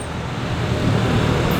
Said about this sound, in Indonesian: Ini suara motor banyak Bu